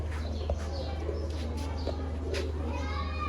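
A pigeon at a fancier's loft cooing softly among other birds, with a low steady hum underneath, distant children's voices and occasional faint calls over a few seconds.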